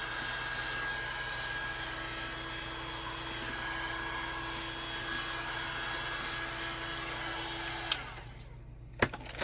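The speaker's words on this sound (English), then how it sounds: "I'm going to take my heat gun and I'm just going to run it through here" A heat gun blowing steadily over resin in a mold, a continuous close whirring hum for about eight seconds before it cuts off, followed by a couple of sharp knocks.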